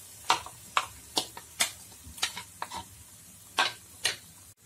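Masala paste for egg korma fries in oil, heard as a series of sharp, close scraping and spattering bursts from stirring, spaced about half a second apart over a quiet background, no voices.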